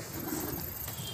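Soft racing pigeon cooing in the distance, muffled under a steady wash of outdoor background noise, in Delhi.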